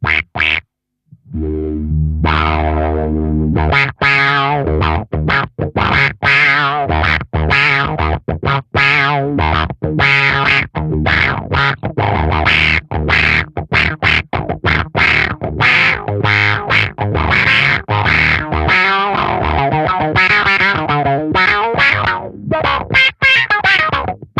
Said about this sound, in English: Currently envelope is pushed in, which is why it's doing that big, the whole filter sound.